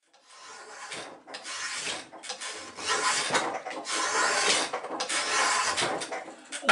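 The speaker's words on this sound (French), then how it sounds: "J'ai maintenu la lame de bambou avec un serre-joint sur un morceau de bois et je commence par lisser un peu l'extérieur." Bamboo blade clamped onto a block of wood being smoothed on its outer face, a steady, close rasping scrape in repeated long strokes with brief pauses between passes.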